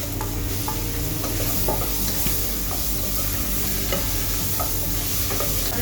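Onions, chilli and tomato sautéing in a pan, a loud, dense, continuous sizzle with scattered crackles and pops, close up and without talk.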